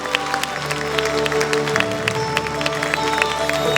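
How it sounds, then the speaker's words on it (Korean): Steady applause from a crowd at a social workers' convention fills the clip, a dense patter of clapping over faint sustained musical tones, with no clear talking. "큰 박수 부탁드리겠습니다"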